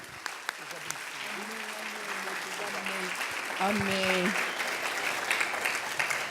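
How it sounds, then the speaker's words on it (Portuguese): A church congregation applauds after a prayer, steady broad clapping filling the room while a voice speaks and sings briefly over it. "Dá um aplauso ao Senhor pela vida dela, amém?"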